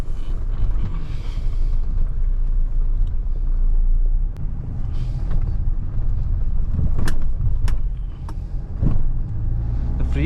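Mahindra XUV 700 diesel manual driving on a rough road, a loud continuous low engine and road rumble with a few brief thumps and rattles as it crosses a pothole.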